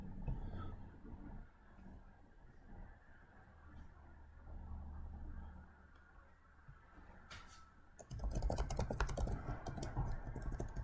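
Quiet typing and button clicks on a computer keyboard patter along softly, then grow louder and busier with a denser run of keystrokes near the end.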